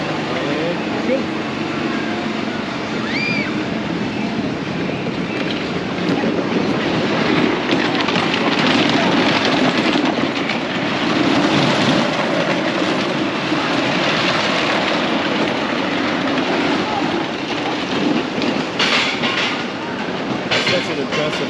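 A roller coaster at Indiana Beach amusement park rumbles past in a steady, loud roar with rattling wheel noise, building and holding for about twenty seconds before easing slightly, with wind buffeting the microphone.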